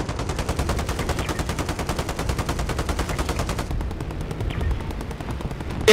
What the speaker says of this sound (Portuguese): Eu aqui que tô numa troca de tiro